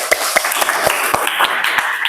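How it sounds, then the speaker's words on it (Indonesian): A classroom of students claps for a classmate, a handful of sharp, close, uneven hand claps spread over a couple of seconds, with no talking. "Berikan tepuk tangan untuk Haris."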